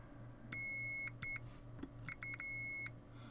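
Multimeter continuity tester on the DC side of a Summit Autoslot power supply beeps as a capacitor charges: several steady high electronic tones, the longest about half a second, in separate bursts over a quiet background hum.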